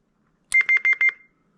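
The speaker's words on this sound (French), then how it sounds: "on va justement aller pouvoir écouter maintenant les Roger Bip" Roger beep tones from a CB radio, a CRT 9900V, Jopix AT 6666PRO or Radioddity QT80 rig: a quick burst of about five clipped electronic pips over a steady tone, loud and close, then silence.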